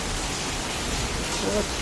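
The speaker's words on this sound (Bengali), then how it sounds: "অনেক দিন পর এখানে বৃষ্টি হচ্ছে, প্রায় 4-5 মাস পরে বৃষ্টিটা হচ্ছে।" Rain falling steadily in Jaipur, a dense, even hiss that holds throughout with no breaks, heard close and alone.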